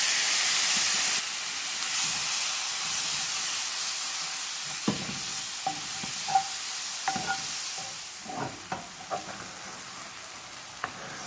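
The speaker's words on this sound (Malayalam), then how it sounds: "ഈ തക്കാളിയും കൂടി ഇതിലേക്ക് ഇട്ടിട്ട് നല്ലതുപോലെ ഒന്ന് ഇളക്കി യോജിപ്പിച്ചെടുക്കും." Chopped tomatoes are stirred into hot oil in a pan for a chutney, giving a loud hissing sizzle that fades gradually, followed by scattered clicks and scrapes of a spoon against the pan.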